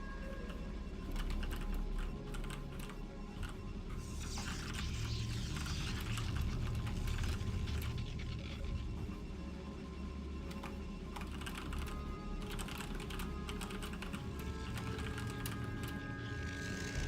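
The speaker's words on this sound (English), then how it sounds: "All right, we're all done typing." Computer keyboard typing between rounds of a Cosmonarchy game tournament: steady, continuous clicking of keys at moderate loudness over a constant low electrical hum, with no talking.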